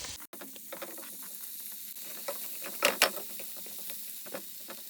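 Onion and tomato sizzling in butter in a pot, a steady close frying hiss dotted with small pops and crackles, swelling briefly midway.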